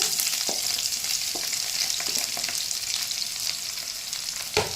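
Bell peppers fry in a few spoonfuls of hot oil, a steady close bright sizzle running throughout with faint clinks of stirring.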